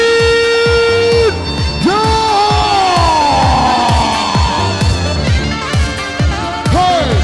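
A boxing arena crowd cheers and shouts for the fighter in the blue corner at a women's bout, loud and sustained, with rising chanted calls and a sung or musical tone running through the din.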